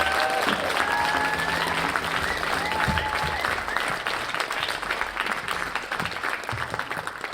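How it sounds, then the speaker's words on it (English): An audience at the Git Hayetsk Coastal Dance Festival applauds the dancers with dense, sustained clapping that stays loud and steady throughout, with a few voices and tones mixed into the crowd noise. "Can we give him and his dancers a round of applause, please?"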